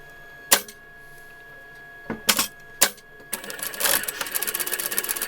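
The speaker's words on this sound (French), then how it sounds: "vous allez coudre de ce point-ci, ici et ici" A sewing machine stitches heavy fabric for a doll dress: a few isolated clicks and knocks, then the machine starts up in a rapid, close, buzzing run of stitches that continues to the end.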